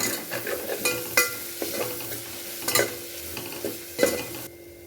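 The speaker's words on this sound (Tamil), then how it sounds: "நல்லா மிக்ஸ் பண்ணிவிட்டு நல்லா நல்லா கிண்டி விடுங்க நல்லா அடி பிடிச்சிடும்" Mutton bone curry mixture stirred in a hot pan, a steady sizzle under repeated scraping strokes of a spoon against the metal, with a few sharper clinks, close and moderately loud, no talking.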